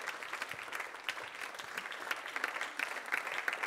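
A church congregation applauds steadily throughout, a dense wash of many hands clapping at moderate loudness with no break.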